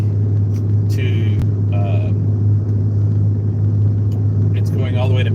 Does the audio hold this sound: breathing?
no